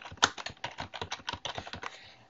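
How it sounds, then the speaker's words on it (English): A password goes in on a computer keyboard as a quick, even burst of about fifteen light, crisp keystrokes, close and alone. "it'll ask me what password do I want to use, so we'll go ahead and put in a password."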